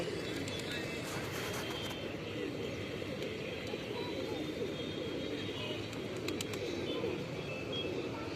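Low, throaty cooing from pigeons being fed grain murmurs continuously against a background rumble, with a faint distant drone and a few light ticks.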